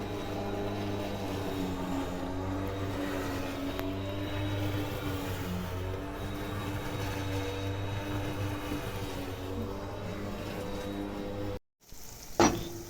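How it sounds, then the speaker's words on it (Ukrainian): Food sizzles steadily in a pan with a constant hiss and low hum, broken near the end by a short gap and a clatter. "Перша сковорідка вже смажиться."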